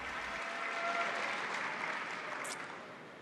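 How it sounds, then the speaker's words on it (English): Delegates at the NDP National Convention applaud steadily, a broad even wash of crowd clapping that holds for the whole stretch at a moderate distance. "Stephen Lewis getting some applause from delegates at the NDP National Convention"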